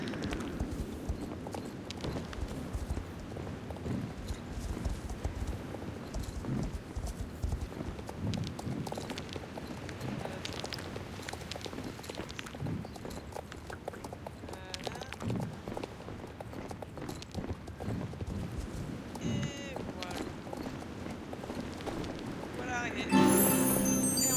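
Pony hooves clip-clop steadily in Star Stable Online, a rhythmic gait that keeps on at moderate volume under background game sounds and occasional talk, with a brighter chime near the end.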